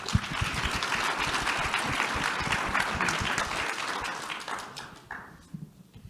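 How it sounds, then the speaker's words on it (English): Audience applause for a conference panel, a dense wash of clapping hands close by that holds steady and then thins and fades over the final second. "Let's give the panel one more round of applause."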